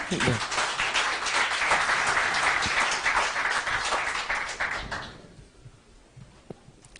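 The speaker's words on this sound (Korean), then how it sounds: "박수 부탁드리겠습니다" An audience at a political event applauds steadily for several seconds, then the clapping fades away to near silence.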